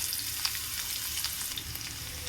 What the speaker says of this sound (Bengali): এরপর একটু কালো জিরে দেব তারপরে থেতো করে রাখা রসুন দিয়ে দেব